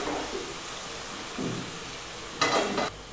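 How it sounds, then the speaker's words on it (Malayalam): Boiling water poured onto green peas frying in a pan sets off sharp bursts of sizzling hiss between quieter stretches, close and clear with no voices. "ഈ തിളച്ചുകൊണ്ടിരിക്കുന്ന വെള്ളം ഒഴിക്കുക"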